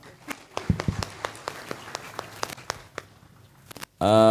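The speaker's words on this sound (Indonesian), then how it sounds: "Tepuk tangan untuk kita semua." An assembly audience at a joint morning ceremony claps in scattered, uneven bursts that thin out over a few seconds before a voice cuts in.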